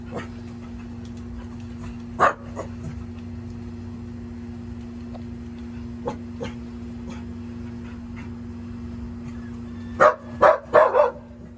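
Farm dogs in a rural countryside setting give a few sharp barks, one near the start and a quick cluster toward the end, over a steady low hum and quiet background.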